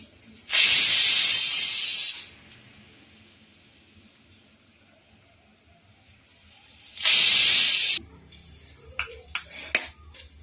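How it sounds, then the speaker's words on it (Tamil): Two loud bursts of pressure-cooker steam whistle hissing, each about one to two seconds, separated by a quieter stretch, followed by a few faint clicks. "2 விசில் நல்லா சாஃப்டாக வேக வச்சு எடுத்துக்கலாம்"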